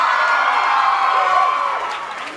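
A live audience at a stage show cheers and claps for a performer's entrance, forming a dense wash of whoops and applause that holds steady, then begins to fade toward the end.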